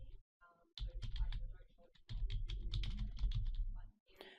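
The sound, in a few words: typing on a computer keyboard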